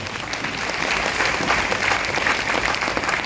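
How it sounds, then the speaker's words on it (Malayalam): Audience applause at a company team celebration event, steady dense clapping from a crowd that holds for several seconds with no speech. "ഓക്കെ, ഒന്ന് കൈയടിച്ച്."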